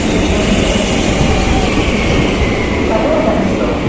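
A newer S2 commuter train at Barcelona's Plaza Catalunya station, platform 2, fills the space with a loud, continuous rumble and hiss that holds steady without a break.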